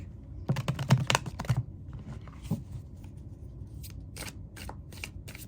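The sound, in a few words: shuffling oracle deck cards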